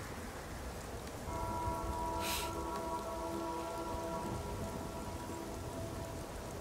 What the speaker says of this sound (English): It's dark and rainy.